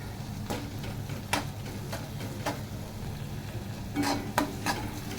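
Onion fries in a pan for a fresh cashew curry, a low steady sizzle punctuated by several sharp knocks of a spoon against the pan, close by with no talking.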